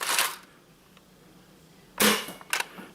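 An Adventure Force Nexus Pro toy blaster fires three sharp shots, one near the start and a close pair about two seconds later, each a crisp snapping pop with no talk.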